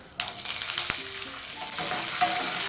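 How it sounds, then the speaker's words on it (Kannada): Green chillies and curry leaves hit hot oil with a sudden burst of sizzling, then keep frying in a strong, steady crackling hiss close up. "ಕರಿಬೇವು ಹಾಕ್ಕೊಂಡು ಫ್ರೈ ಮಾಡ್ಕೊಳ್ಳಿ."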